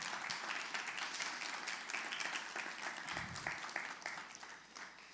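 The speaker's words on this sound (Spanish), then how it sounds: "dale un aplauso al Señor" A church congregation applauds during a Spanish-language sermon, a steady roomful of clapping that swells and holds for several seconds, heard at a moderate distance with a faint murmur of voices beneath.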